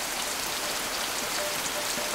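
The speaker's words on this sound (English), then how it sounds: "Sri Lanka's tropical climate has two monsoon seasons that bring heavy rainfalls." Heavy monsoon rain in tropical Sri Lanka pours steadily, a dense, continuous hiss of drops striking surfaces with no pauses and no voices.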